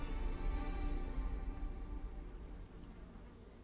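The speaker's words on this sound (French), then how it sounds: "il y a même le bruit des mouches qui est à fond." Continuous buzzing of flies fills the game soundscape of 1666: Amsterdam, a steady droning hum at high volume that thins out slightly toward the end.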